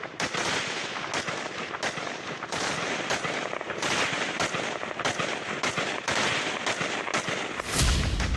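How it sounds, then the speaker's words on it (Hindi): Heavy gunfire crackles at night on the Pakistan-Afghanistan border: rapid, continuous bursts of shots, some automatic, sounding loud and fairly close, with a sharp blast near the end. "रात का घनघोर अंधेरा है, दनादन गोलियां चल रही हैं।"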